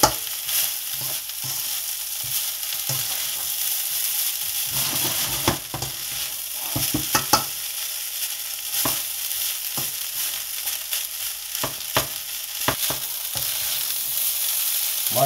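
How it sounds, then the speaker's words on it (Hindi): Kofta fried rice stir-fried in a pan, a loud continuous sizzle with irregular clacks and scrapes of a spatula tossing the rice. "चावल हमारे काफ़ी हद तक फ्राई हो चुके हैं, तकरीबन तैयार हो चुके हैं।"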